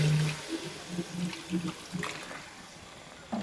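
Water is poured into tomato kurma in a pan, making a soft, gurgling splash that tapers off and ends with a brief clatter; faint and close.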